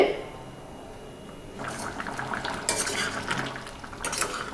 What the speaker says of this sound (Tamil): போட்டு நல்லா கலக்கி விடுங்க.